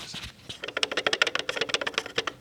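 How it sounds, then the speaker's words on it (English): A loose cooling fan on a car alternator gives a close, rapid, rhythmic rattle of quick repeated clicks over a couple of seconds. "The cooling fan is a little loose on the alternator."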